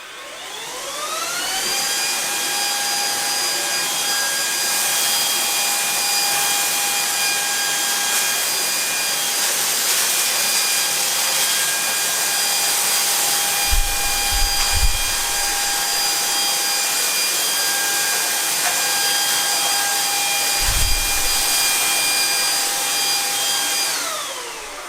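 A Proscenic P9 cordless stick vacuum cleaner runs continuously with its aggressive brush head fitted, a loud, steady high-pitched whine with a motor drone. It spins up at the start and winds down at the end, with a few low knocks midway.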